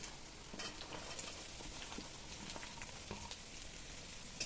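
Onion fries in a pan at home for a meat curry, with a quiet, continuous crackling sizzle and occasional stirring clicks, close and undisturbed by speech.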